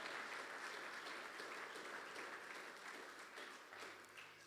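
A church congregation claps loudly for the Lord during a sermon, a dense, even patter of many hands, heard fairly faint and distant, sustained throughout and easing slightly at the end.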